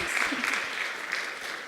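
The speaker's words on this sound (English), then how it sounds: "we can give her a round of applause" A conference audience gives a short round of applause, a soft, even patter of many hands from across a meeting room that sounds slightly distant, with a voice briefly heard near the start.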